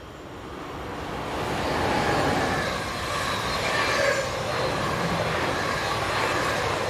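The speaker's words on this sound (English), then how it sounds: "This is the 10 o'clock from Interlaken in Switzerland to Berlin, formed of ICE set number 401017" ICE set 401017, a German high-speed train from a 1989 fleet, runs the Interlaken-to-Berlin service past in a steady broadband roar that swells to a peak midway and holds, with no voices.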